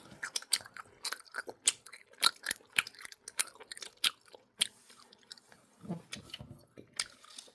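Close, squishy chewing and biting of Katjes jelly candy, with repeated sharp wet crunches and smacks coming in an irregular rhythm and brief quiet gaps between bites.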